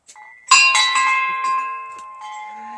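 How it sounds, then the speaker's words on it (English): An old farmhouse dinner bell by a 1790s doorway rings once with a bright, sustained clang whose tone slowly decays, and a few soft voices can be heard before and under the ringing. "That would be the bell to call you over from the barn when dinner's ready."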